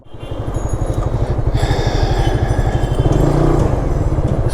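A Suzuki GSX-R sport motorcycle with a performance upgrade revs up close, its engine climbing from idle into a loud, pulsing throttle blip that holds strong to the end.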